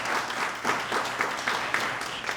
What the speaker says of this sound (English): just give a big round of applause